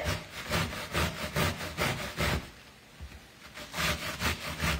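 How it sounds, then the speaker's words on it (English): A head of cabbage rubs back and forth across a hand grater for slaw, making rhythmic rasping strokes, about a dozen close scrapes with a short lull partway through. No one talks over it. "I like to use a hand grater when I make slaw"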